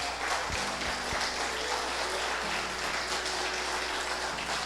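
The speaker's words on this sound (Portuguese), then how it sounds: "E pode aplaudir o Senhor." Congregation applauding in church during a sermon, steady, fairly loud massed clapping with a faint sustained tone underneath.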